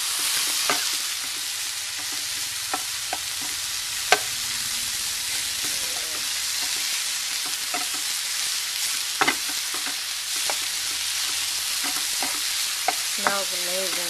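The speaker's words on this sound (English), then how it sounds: "And I put about a teaspoon of oil in this pan. And everything's just about done. I just have to cook the mushrooms a little more." Kale, vegetables and mushrooms fry in a teaspoon of oil in a pan, making a steady, loud sizzle. Scattered utensil scrapes and taps are heard throughout as the food is stirred, and no one speaks.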